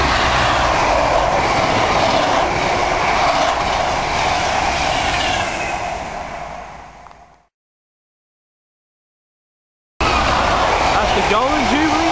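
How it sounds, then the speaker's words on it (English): A train blasts past Needham Lake near Needham Market, a loud, close roar of rushing wheels and wind that fades out, then another loud burst of rail noise returns. "Here comes another train out to blast past Needham Lake."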